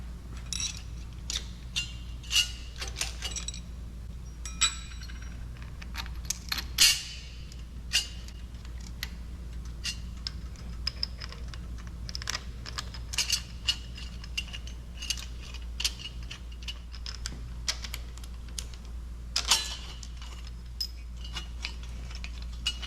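Rocker arm assembly bolts are fitted on a Ford FE engine for a 1967 Shelby GT500, with faint, scattered metallic clicks, ticks and ratcheting over a low steady hum and no talk.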